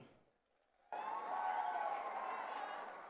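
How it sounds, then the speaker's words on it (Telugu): Audience applause at a Telugu literary gathering honouring lyric writer Kasarla Shyam, breaking out abruptly after a quiet moment and rolling on as a dense, loud, steady wash of clapping. "ఇవాళ గట్టిగా మోమాటలు లేకుండా చప్పట్లు కొట్టచ్చు"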